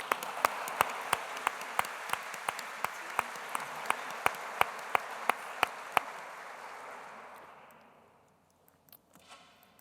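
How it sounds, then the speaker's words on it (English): Steady applause from an audience at a conference opening session, dense clapping sustained for several seconds under sharp close claps, then fading out to near silence. "So please join me in giving Liz and her team a huge round of"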